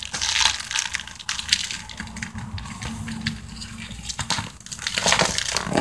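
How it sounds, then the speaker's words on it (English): New pool floats are freed from their plastic packaging, with continuous crinkling and crunching of plastic, close and fairly loud, swelling in bursts and unbroken by speech. "All right, so this is what came inside. Let's unwrap it, I guess."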